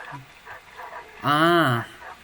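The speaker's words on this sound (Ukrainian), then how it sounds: "Надіюсь, це не на мене гавкають" A dog gives one drawn-out, yelping bark partway through, mid-distance and fairly clear, after a few faint murmuring sounds against a quiet background.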